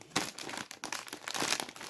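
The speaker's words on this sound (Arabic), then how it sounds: "ونفتح الكيس الخامس" A crinkly plastic bag of Lulu puffs snacks is torn and pulled open up close, with a quick run of sharp crackling rustles in uneven bursts and no talk.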